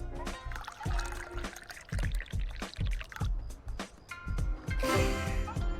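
Green tea being poured into a cup in the video game Dave the Diver, a series of short splashy pours and trickles in uneven bursts with a brighter, fuller stream near the end.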